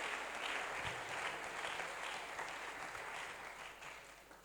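Sustained applause from a conference audience at a revival-themed church seminar, a dense steady wash of many hands clapping that fades slightly toward the end, with no talking over it.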